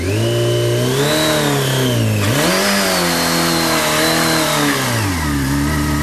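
A motorcycle engine revs during burnout practice, loud and close, climbing steadily, dipping briefly, then rising again to a sustained high rev before dropping back toward idle.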